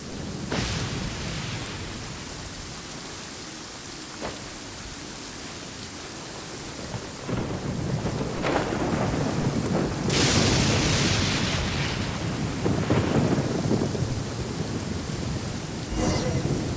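Steady rain hisses through a stormy scene in Genshin Impact, and several bright cracks and rumbles of thunder break out at intervals over the continuous downpour. No one speaks.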